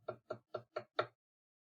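Five quiet, evenly spaced knocks on a door, the last slightly stronger, heard alone against silence.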